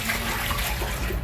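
A push-button toilet aboard a cruise ship flushes, giving a brief close rush of swirling water that lasts about a second.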